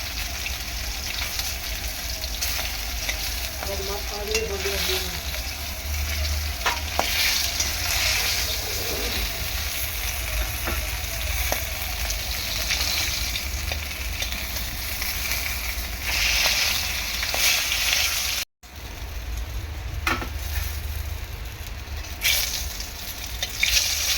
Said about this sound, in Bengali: মাছগুলো ভাজা হয়ে গিয়েছে মোটামুটি, এখন তুলে নেব।